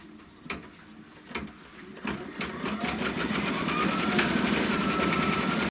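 A sewing machine stitching a placement line on fabric: a few separate clicks and thumps at first, then a steady, fast, close mechanical whirring hum that runs evenly until it stops abruptly.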